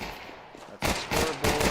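Burst-fire gunshots crack out in CS:GO, a sharp cluster of loud reports followed by a short pause and a second burst, close and unaccompanied by talk.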